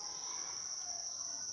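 Crickets kept on an Indonesian cricket farm chirp in a steady, continuous high trill, loud and close, with no pauses and no voices.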